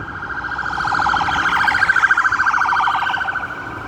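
A police siren wails loudly and steadily for several seconds, its warbling tone rising and falling with no voices over it.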